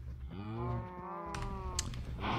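Cows mooing in Minecraft, a couple of drawn-out low moos from livestock penned in an enclosure, close and clear, with no talking.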